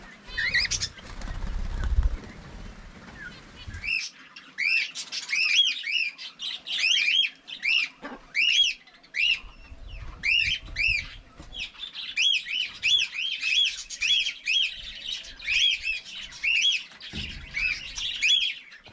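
Pet birds in an aviary squawk and whistle in quick, repeated bursts, loud and close, calling almost nonstop with short gaps between the chirping phrases.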